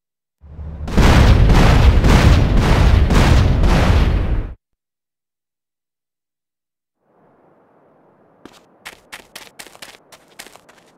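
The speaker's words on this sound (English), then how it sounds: "Expected a bigger explosion than that" An explosion goes off in the video game Grand Theft Auto: San Andreas. A loud, rumbling blast lasts about four seconds, then stops abruptly. After a silence, fainter crackling pops and clicks follow.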